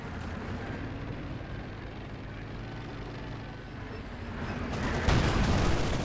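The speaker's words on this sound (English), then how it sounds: "they're opening up these conscripts. Getting off a few good shots there from afar" Gunfire from a Company of Heroes 2 match, with Soviet conscripts shooting at range, crackles steadily amid dense battle noise that swells louder near the end.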